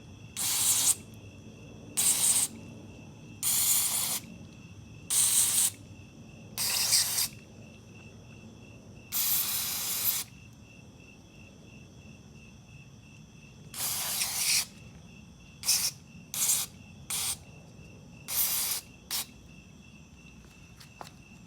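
An aerosol can of MAF sensor cleaner sprays on a BMW in a series of short hissing bursts, about a dozen of varying length with pauses between, close by and fairly loud.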